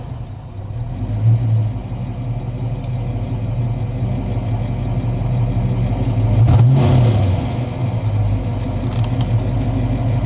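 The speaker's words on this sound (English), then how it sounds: "I'll keep quiet for just a moment so you can hear how this rolls." A 1970 Ford Mustang Boss 302 with a 302 V8 engine rolls along and then accelerates, its steady mid-pitched drone swelling around the middle before settling, heard close with almost no talk.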